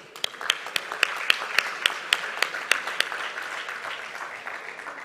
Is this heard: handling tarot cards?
no